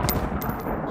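Rapid automatic gunfire rattles out in a video game, a single tight burst of quick shots lasting about a second, fairly close and alone.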